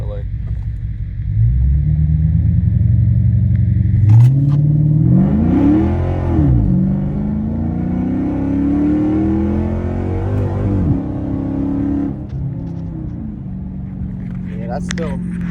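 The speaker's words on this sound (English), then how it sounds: "it's so hard to do a 0 to 60 without launch control" A Dodge SRT8 with a 6.4 engine pulls hard in a 0 to 60 run, a loud, close, deep rumble rising through several gear changes, with a voice talking over it.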